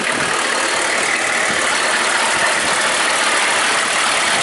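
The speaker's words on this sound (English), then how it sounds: "I don't know if you can hear how clean, how crisp this engine is." A 1995 Chevrolet Suburban engine idles close by with a steady, even hum that holds at the same level the whole time.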